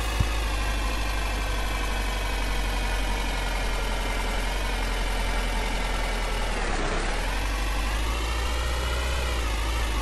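Lada Zhiguli car in the game Motor Depot driving off-road through winter terrain, a steady droning engine hum that dips and rises briefly partway through, close and constant without talking.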